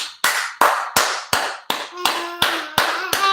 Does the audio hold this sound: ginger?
no